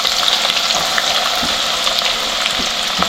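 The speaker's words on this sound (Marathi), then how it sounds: "तेल तापलंय, आता आपण ह्याच्यात कांदा टाकायचा आहे." Onion frying in hot oil in a home kitchen, a dense, steady sizzle close and loud throughout with faint crackles and no talk.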